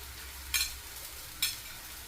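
Egg and steamed string hoppers are tossed in a hot frying pan for egg idiyappam kottu, giving a soft, steady sizzle broken by two short, bright scraping strokes of a spatula.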